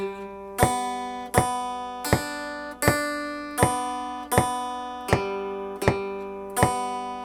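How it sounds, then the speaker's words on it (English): Evenly spaced guitar strums play the bass part of a song at a plain, straight pulse without swing, each crisp and decaying before the next, played up close without talking. "If I played it without any swing, it would sound like this."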